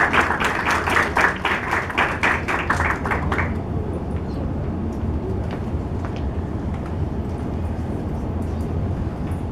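An audience claps for a speaker at a lecture on post-Keynesian economics. The burst of applause is fairly loud for about three and a half seconds, then cuts off and leaves only quiet room murmur.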